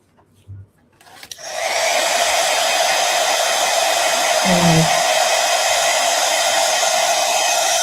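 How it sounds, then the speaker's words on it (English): A heat tool starts up and blows a loud, steady, close whooshing hum while heat-setting a mixed media journal page, with a brief soft knock partway through. "Sorry for the heat tool sound that you will hear."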